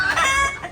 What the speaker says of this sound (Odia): ଏଇଟା ଗୋଟେ କୁକୁଡ଼ା